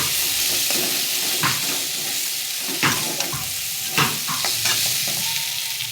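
Masala with chopped tomatoes frying in a pan while being stirred, for a chicken and potato curry: a constant sizzle broken by intermittent scraping stirs and clinks, no talking.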